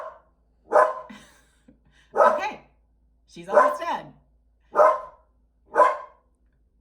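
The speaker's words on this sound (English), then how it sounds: "We're just gonna pause while my dog barks at our male person." A pet dog barks at a mail carrier from indoors. Five loud, separate barks come about a second apart, and someone speaks briefly between them.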